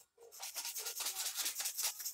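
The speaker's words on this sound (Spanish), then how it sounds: "Aquí en el contorno voy lijando y se va a ir cortando." Sandpaper rubbed along the edge of thin decoupage paper on a keychain craft piece, cutting it away: a steady, close run of short scratchy strokes, repeating rhythmically without pause and no talk over it.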